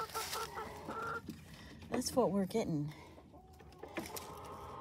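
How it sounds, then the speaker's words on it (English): Backyard chickens in a DIY pallet-built walk-in coop and run give a short burst of rising, wavering clucks, fairly close, framed by someone talking before and after. "And I'll show you all our chickens."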